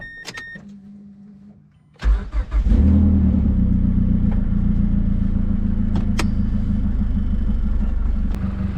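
A Mazda Speed 3 engine fresh from a timing chain replacement cranks and catches after a quiet moment, then settles into a loud, steady idle close by, with a few faint clicks over the hum.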